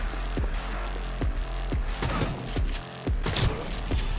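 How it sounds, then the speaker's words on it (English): Video game gunfire rings out in a live stream as a rapid series of sharp shots and thuds over a constant low rumble. The shots are loud and come in irregular bursts. "Now he's firing."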